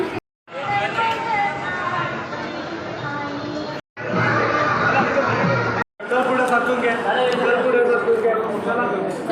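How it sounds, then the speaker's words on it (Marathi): Dense crowd chatter at Durgadi fort during the Navratri festival, a loud continuous babble of many voices close around, cut by two brief silent gaps. "खूप गर्दी आहे"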